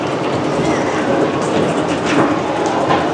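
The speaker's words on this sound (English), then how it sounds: "there goes the train now, and you'll see as it goes up the lift hill" A roller coaster train on the Wrath of Rakshasa at Six Flags Great America climbs the lift hill, producing a continuous close rattling, clicking mechanical noise with steady hiss and no pauses.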